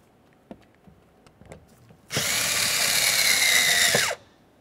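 Power driver with a 7mm socket running mounting screws into a Ford Explorer Sport Trac door lock actuator and latch: a single steady whir of about two seconds, close and fairly loud, after a few small clicks.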